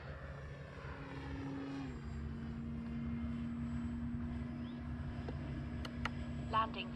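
An E-flite Carbon Z T-28 RC airplane comes in to land on a grass field without flaps. Its propeller motor gives a steady, fairly faint whine from a distance that drops in pitch as the throttle eases.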